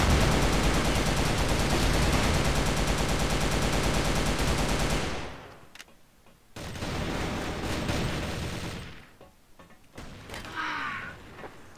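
Sustained RPK machine gun fire in the video game Crossfire rattles loud and dense for several seconds, then falls to quieter, scattered bursts and brief lulls.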